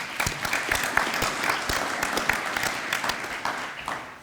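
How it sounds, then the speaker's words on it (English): A room of people gives a round of applause at a university senior breakfast, a steady, fairly close patter of many hands clapping for several seconds with no speech over it. "let's give her another round of applause."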